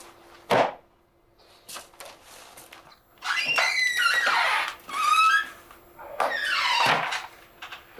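An interior door creaks open and shut as someone walks out of an office in a Russian cadet-school drama, a sharp knock or thump first, then several squeaky, drawn-out creaks in bursts, fairly close.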